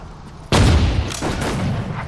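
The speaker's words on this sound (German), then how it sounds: "Artillerie! Feuer!" Artillery fire in the Sudden Strike 4 war strategy game: a single loud, close boom erupts sharply and rolls on with a rumbling tail, over a low battlefield background.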